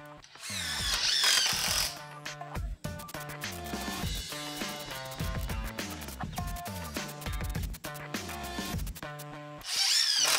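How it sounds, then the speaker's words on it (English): A DeWalt cordless drill drives drywall screws into a Southern Yellow Pine 2x4, its motor whining loud and close in long sustained bursts with brief pauses and pitch shifts as each screw seats. "take battery voltage measurements and then insert 50 drywall screws into a"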